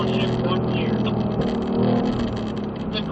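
Ford Mustang on a race track downshifting one gear, the engine droning and rising in pitch with a rev blip, heard under someone talking.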